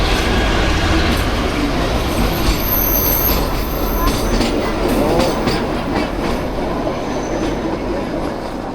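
The Kalka–Shimla Himalayan Queen mountain train running, with a continuous loud rumble of wheels on track, rhythmic clickety-clack and faint squeals, heard close and steady throughout.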